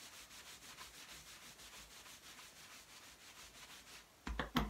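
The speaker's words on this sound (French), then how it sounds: "Et on va venir masser les reins. On frotte," Hands rub briskly over the lower back in a morning Qi Gong routine, a soft rhythmic swishing friction repeated at an even pace, faint and close, with a louder brush of contact at the end.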